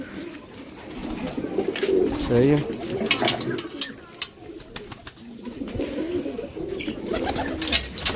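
Soft, low pigeon coos repeat nearby, mixed with brief clicks and rustles, while a person speaks briefly near the end.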